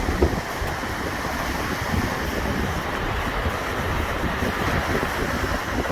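Waves rolling in on Lake Erie under gusting wind, a continuous broadband roar of surf and microphone wind noise with no speech.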